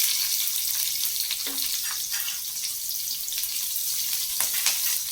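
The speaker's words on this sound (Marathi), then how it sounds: "कांदा थोडासा परतून घ्यायचा आपल्याला." Coarsely cut onion sautés in a pan for veg Kolhapuri, producing a continuous, fairly loud hissing sizzle with a few faint clatters of stirring.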